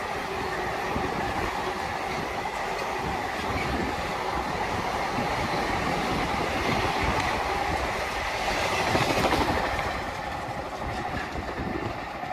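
Freight train 66128, heading to Didcot from Wakefield, rumbles past at steady volume for the whole stretch with continuous wheel clatter and a slight swell near the end.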